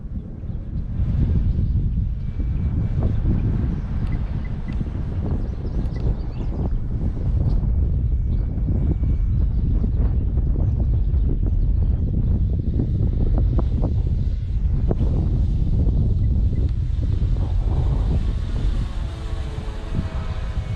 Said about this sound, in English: It's a little breezy right now.